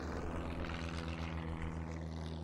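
A propeller airplane arriving at a remote Alaskan wilderness camp, its engine a steady, loud droning hum with a pulsing low throb that holds constant throughout, with no voices over it.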